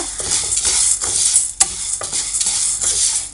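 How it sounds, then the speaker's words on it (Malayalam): Raw toor dal (parippu) is dry-fried in a pan over a gas flame and stirred, giving a loud, steady rattling hiss with one sharp clack partway through. No one speaks. "അപ്പോൾ നമുക്ക് ആദ്യം ഈ പരിപ്പൊന്ന് ഫ്രൈ ചെയ്യാം."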